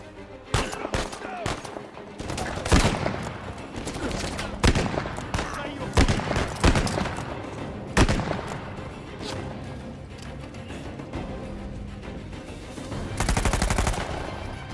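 Gunfire from a weapon in the video game Uncharted 4: loud, close bursts of rapid shots and heavy single blasts recurring across the clip, with crashes and brief speech mixed in.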